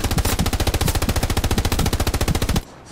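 Rapid, steady machine gun fire in a video game, a continuous loud burst of evenly spaced shots lasting over two seconds before stopping abruptly.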